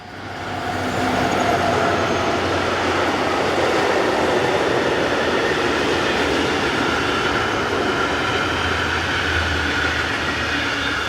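DB Cargo class 294 shunting diesel locomotive, number 294727, hauling a trip freight north from Neuss, a steady loud rumble of engine and rolling wagons building up in the first second and holding close throughout.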